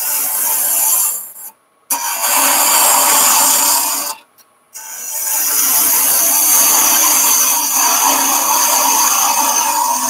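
A wood lathe gouge cuts a turned wooden box, blending into the spigot, producing a loud continuous rasping, scraping whir that breaks off twice into brief silence before resuming, with no talk.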